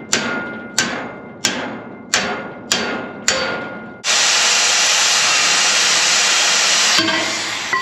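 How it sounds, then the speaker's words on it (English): Six sharp metallic hammer strikes on sheet metal of a squeeze chute ring out at an even pace, each decaying with a clang, followed by a loud sustained hiss that fills the rest. "hopefully the hammer can fix it"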